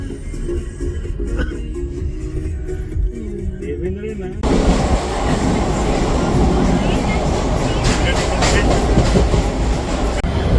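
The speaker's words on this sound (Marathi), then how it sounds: "आपण आता आहोत ट्रेनमध्ये आहोत" A train, heard from inside a carriage, rumbles along the tracks with a steady, loud roar and rhythmic rattling; after a few seconds the noise swells and grows louder.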